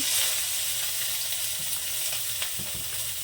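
Lata fish frying in oil, a loud, dense, continuous sizzle that stays steady throughout with faint stirring knocks underneath.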